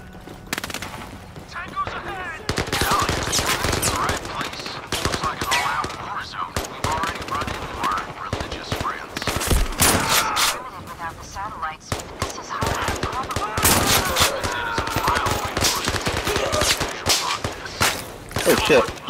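Rapid bursts of automatic gunfire with a double drum magazine in the VR shooter game Zero Caliber, loud and near, sustained fusillades broken by short pauses, with people talking over the shots.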